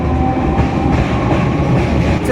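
An Arambagh–Howrah local train rolls through Kamarkundu railway station, a loud, close, continuous rumble with rattling carriages and rhythmic wheel clatter.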